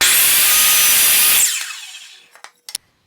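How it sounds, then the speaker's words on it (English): A miter saw whines loudly as it cuts a wooden poster frame corner, the blade then spinning down over about a second, followed by a few faint clicks and knocks. "Now I'm gonna clean up these corners on the miter saw."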